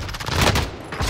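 Gunfire in Call of Duty Warzone on Rebirth Island, a quick burst of rapid shots lasting about a second, moderately loud and heard alone.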